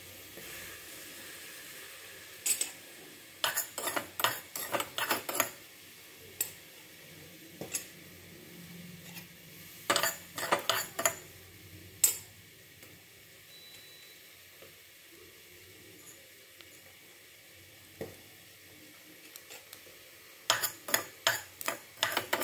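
Fenugreek seeds fry in a pan, giving off quiet, scattered crackles and pops in bursts with pauses between them. A faint background hiss runs underneath, and the spluttering gathers into denser clusters at times.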